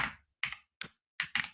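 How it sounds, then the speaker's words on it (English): Computer keyboard typing while testing AI-assisted Java development in IntelliJ IDEA: five crisp, close keystrokes in an uneven rhythm, with quiet gaps between them. "So if you type in"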